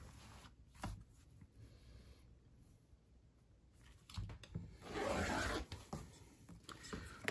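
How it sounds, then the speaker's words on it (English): A rotary cutter rolls through a tea towel in one short, soft scraping pass amid quiet handling rustles in a hushed room. "So let me get my rotary cutter and cut that off."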